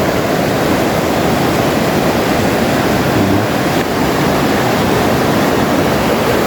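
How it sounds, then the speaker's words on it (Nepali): A hill river rushes over rocks and sand as a loud, constant, broadband roar, close and alone with no talk. "त्यो पानीको आवाज सुनिसक्छ"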